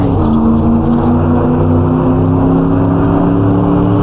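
A race car in Assetto Corsa accelerates out of a corner after a downshift to second gear, its engine note climbing steadily and loud throughout with no pauses.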